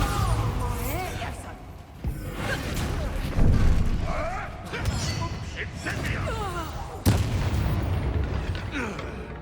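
A Bombarda blast spell in Hogwarts Legacy lands as a series of deep booms and crashes amid busy game combat, with sharp impacts recurring and a voice speaking over the action.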